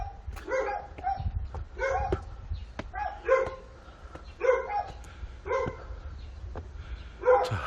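Nearby dog barking steadily at an outdoor heritage site in Gimhae, Korea, seven or so clustered double barks repeating at a regular pace over low ambient rumble.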